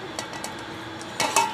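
Arvi curry being served from a pot into a dish, with several light metallic clinks and scrapes of a utensil against cookware, sharp and close but moderately soft, with a louder cluster of clinks near the end.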